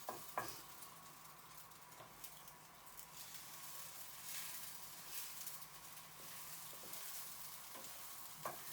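A sweet omelette made with lilac flowers cooks in a pan, giving a faint, steady sizzle and crackle with a few soft clicks of utensil contact against the pan.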